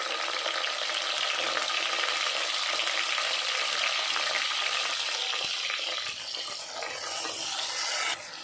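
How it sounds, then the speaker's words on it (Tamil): Onions and chopped tomatoes frying in a pot for chicken biryani give off a steady, close sizzle with some stirring noise. It dips slightly near the end before picking up again. "வெங்காயம் வதங்கிட்டு நம்ம இப்போ நான் ஒரு 2 தக்காளி கட் பண்ணி வச்சுக்கிறத இதில் ஆட் பண்ணிக்கலாம்."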